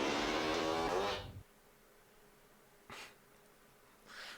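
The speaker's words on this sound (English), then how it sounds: "Bro got the whole fart bomb." A long, loud, buzzy fart rasps for about a second, followed by two shorter, fainter puffs after a pause, with no talking.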